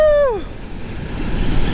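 Rough ocean surf breaking in the rain at a fishing spot, a loud continuous wash of waves and wind after a brief tonal sweep at the start.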